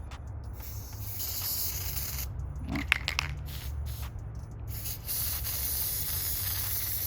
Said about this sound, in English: try the spray adhesive and let's go outside and try it